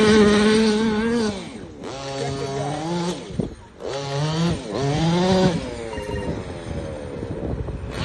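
A gas-powered Losi RC car engine screams through grass at an RC race in Guyana, its high buzzing pitch rising and falling sharply as it revs, backs off and accelerates again, close and loud.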